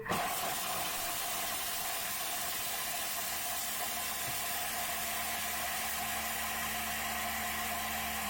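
A kitchen machine chops leek at speed 7, starting abruptly into a steady loud whirring, hissing roar that holds evenly for about eight seconds with no voices over it.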